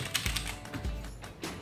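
A gaming keyboard on a new PC setup clacks under quick, close keystrokes in a short burst of typing, with no voices.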